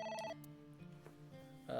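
A telephone rings in the video game AI: The Somnium Files, giving short electronic tonal trills that start and stop in bursts, with no talking.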